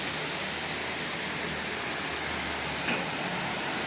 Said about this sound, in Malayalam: നല്ല മഴയാ അല്ലേ